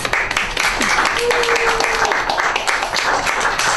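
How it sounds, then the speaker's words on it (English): Applause from a live audience at a York Emporium performance night, dense steady clapping filling the space, with a brief whistle or voice tone rising above it. "So how about a round of applause?"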